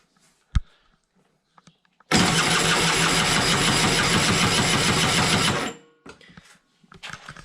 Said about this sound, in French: je mets le coupe-circuit pour éviter que le moteur démarre, hein, tout bêtement, et je vous montre la compression.